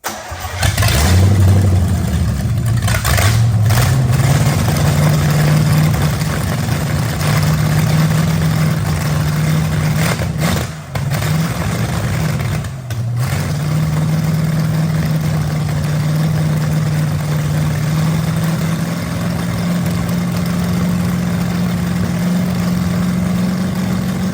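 A Pontiac 350 engine cranks and fires up, then runs with a steady, loud mid-pitched rumble, surging briefly a couple of times before settling into a sustained idle close by.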